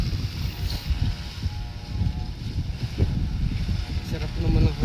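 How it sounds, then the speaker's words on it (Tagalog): Steady outdoor wind rushes and buffets against the microphone during kite flying, continuous and fairly loud, with people talking over it. "Sarap naman ang hangin ngayon."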